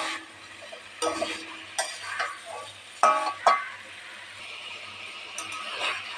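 Cauliflower florets and potatoes are stirred in a cooking pan, with intermittent scrapes and clinks of a spoon over a soft, low sizzle.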